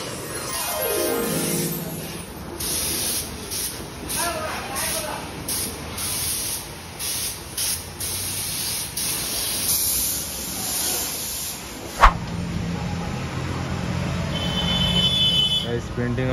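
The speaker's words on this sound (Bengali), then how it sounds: "পেন্টিং হচ্ছে এখানে" Spray painting at a roadside paint shop beside a busy junction, a steady airy hiss running throughout with traffic noise around it and a sharp knock partway through; voices talk intermittently over it.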